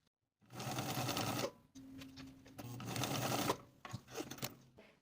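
A sewing machine basting pleats along the top edge of pant pieces, running in two fast, even stitching bursts with a short pause between, then a few brief uneven stitches, close and quiet.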